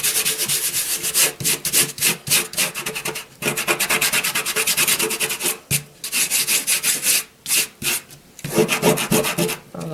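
Fingernails scrape dried salt off watercolour paper in quick, rhythmic gritty rubbing strokes, close and loud, broken by short pauses between bursts.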